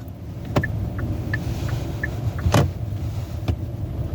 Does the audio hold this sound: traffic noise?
yes